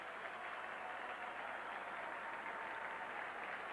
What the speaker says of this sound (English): it also gives Sean DePaula an opportunity to get a standing ovation from this crowd at Jacobs Field